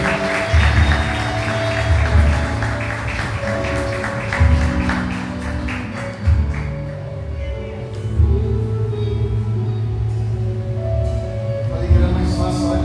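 A congregation applauds at a family church service, the dense clapping strongest early and thinning later, blended with loud bass-heavy music and some voices.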